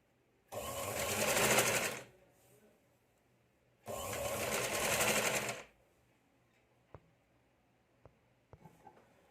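A sewing machine stitches the sleeve of a katori blouse in two short runs of steady whirring, each lasting about a second and a half. A few faint clicks and taps follow in the quiet that comes after.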